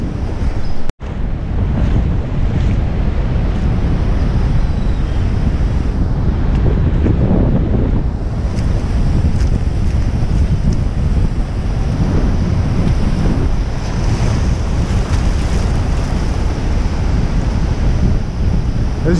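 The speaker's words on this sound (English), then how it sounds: "As you can see, the tide is pushing heavy now." Heavy tide waves rolling in at a beach in Strand, a steady broad roar of surf mixed with strong wind buffeting the microphone, continuous and loud throughout with no talking.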